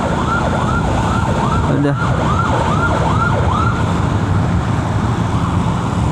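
An ambulance siren whoops in quick repeated sweeps over heavy traffic rumble, moderately near, with a brief spoken word partway through, as the ambulance is escorted on the road from Oku Timur to Palembang, Indonesia.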